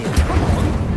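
Incendio fire spell cast in the video game Hogwarts Legacy, a brief heavy burst with a crashing thump and a low rumbling whoosh, close and fairly loud, with no voices heard.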